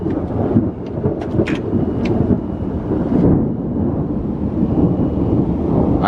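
Loud, rumbling thunder rolls through a nighttime severe thunderstorm, with rain falling steadily and sharp crackles near the start.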